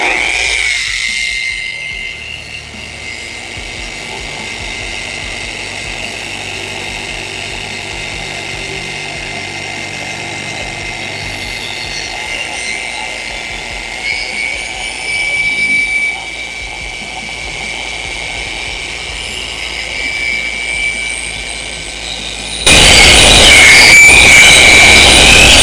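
A polisher with a pad whirs on a car headlight during restoration, a steady high-pitched motor whine running close and continuous for a long stretch, rising abruptly louder near the end.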